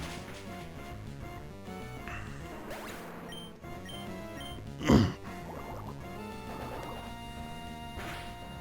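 Water Pulse and Ice Beam attacks in Pokemon Emerald, chiptune battle music carrying a sharp splashing crash near the middle, with softer watery and icy effects around it.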